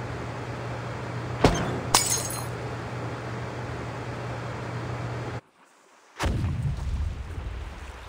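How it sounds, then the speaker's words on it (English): Explosion near a clinic in Reverse: 1999, heard as two sharp cracking blasts with glassy breaking debris over a constant rumbling bed that briefly cuts to silence before resuming. "Sounds like some kind of explosion near the clinic."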